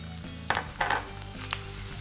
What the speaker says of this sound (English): We'll give that a good stir.